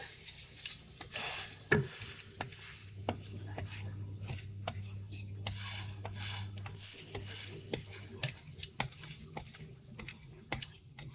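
A croque McDo toasting in a hot pan gives a soft, steady sizzle, with scattered close clicks and taps of utensils and the sandwich being handled and pressed; no one speaks.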